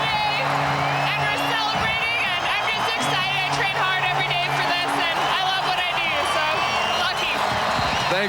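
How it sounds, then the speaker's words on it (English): A stadium crowd at a CFL football game in Calgary roars and whoops continuously after a kick return touchdown, a loud sustained wall of cheering with commentators talking over it. "This crowd obviously going wild for a reason, guys."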